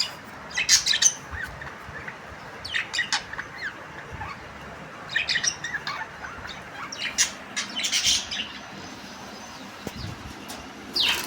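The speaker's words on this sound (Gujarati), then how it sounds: "આ પોપટ આપણે લઈ જવાના છીએ." Parrots at a farm squawking in short harsh bursts, several scattered calls coming in clusters at moderate distance over quiet outdoor background.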